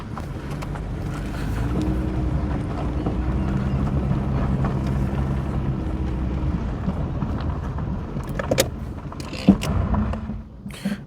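A Citroen 2CV on the move during a handbrake test, its engine a low, fairly quiet drone with road and wind rumble, ending in a few short knocks and clunks as the car slows.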